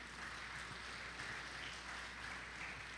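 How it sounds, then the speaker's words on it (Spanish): A church congregation applauds at a Sunday service, a faint, steady patter of clapping heard from a distance. "Así que regálense un aplauso, hermano."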